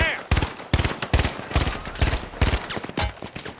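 Gunfire in a first-person shooter video game, with the player using toggle aim. Several rapid, loud bursts of automatic fire come in quick succession, separated by short gaps.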